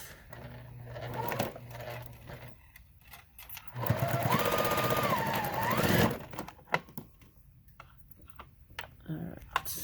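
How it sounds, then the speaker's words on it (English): Sewing machine stitching quilt block pieces with a quarter-inch seam: a close, steady mechanical whir running for a couple of seconds mid-clip, followed by light handling clicks and taps. "So I'm going to sew these guys together first. 1/4 inch seam."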